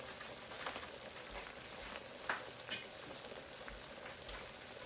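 Saffron-infused rice cooking low and slow in a pot gives off a faint, steady sizzle and simmer, with a few soft clicks and taps over it.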